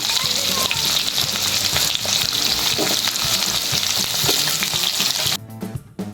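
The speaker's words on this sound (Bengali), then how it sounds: "দেখুন এরপর আমি আলুগুলো ভালোভাবে ভেজে নেব।" Potatoes frying in hot oil in a home kitchen pan, a steady dense sizzle with stirring scrapes throughout, close and loud, briefly dipping near the end.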